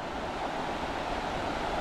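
Water rushes steadily through a flint mill race fed off the River Churnet, channelled to drive a waterwheel; a close, continuous broadband roar with no pauses and no voices.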